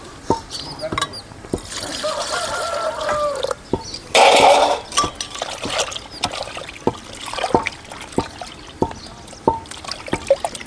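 Tamarind is washed clean in water by hand, with soft trickling, swishing and splashing, a brief louder splash midway, and scattered small knocks and drips throughout.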